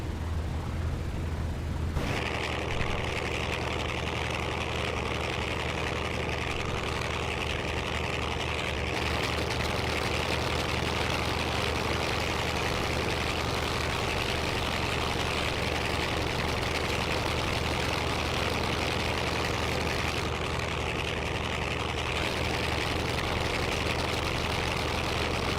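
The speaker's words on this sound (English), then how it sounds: "In-sim engine sounds are loud at the moment." Warbird aircraft engines idle loudly and continuously in Microsoft Flight Simulator, a steady dense drone that holds throughout with slight shifts in tone.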